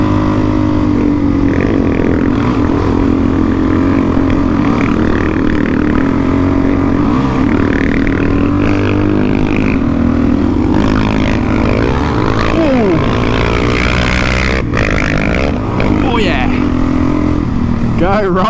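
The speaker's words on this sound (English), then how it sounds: "anyone that wants an FMF exhaust full kit like Rowan, they are bloody noisy" Loud Suzuki DRZ400E dual-sport motorcycle fitted with a full FMF exhaust system, riding with a steady droning engine note and rising and falling revs, continuous and close, with people talking over it.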